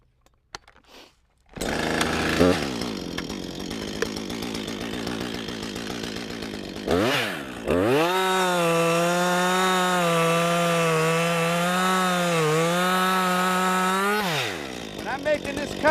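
Chainsaw felling and cutting a tree, a loud engine that idles, then revs to a steady high whine as the chain bites through the wood for several seconds before dropping back, with a brief quiet start.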